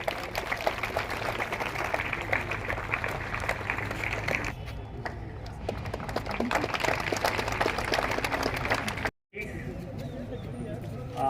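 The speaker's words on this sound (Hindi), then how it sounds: "तालियां बजती रहनी चाहिए" An audience claps steadily at a school rally held with traffic police. A voice is heard over the applause, which dips briefly near the end before resuming.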